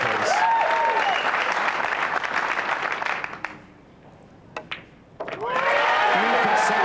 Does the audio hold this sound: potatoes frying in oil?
no